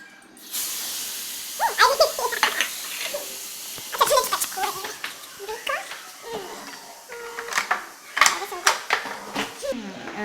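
Onion frying in hot oil while an Indian dish is prepared, giving a broad steady hiss that starts abruptly and carries on under frequent talk and scattered clinks of a pan.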